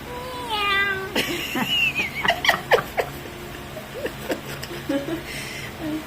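A cat meows several times in short, rising calls, with brief chuckles and soft voices around it, fairly close by.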